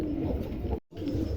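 Pigeons coo softly in a loft, low murmuring calls close by, broken by a brief moment of near silence before the cooing resumes.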